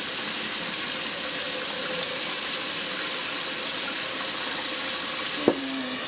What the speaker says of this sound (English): you can actually put it back into the mixer and let it rinse that way if you like, and sometimes it'll get out a little more of the whey